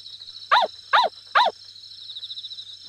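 Three sharp, evenly spaced barks from a dog in Yomawari: Midnight Shadows, loud and close, over a steady high-pitched insect-like drone that continues after the barks stop.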